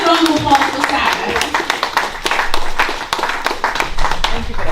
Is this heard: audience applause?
yes